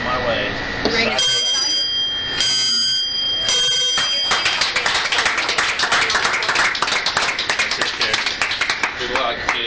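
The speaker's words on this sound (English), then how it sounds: "ring this bell 3 times while to celebrate this day" A hand-rung bell struck three times in a noisy room, bright metallic rings clustered in the first four seconds, followed by clapping and cheering from a crowd.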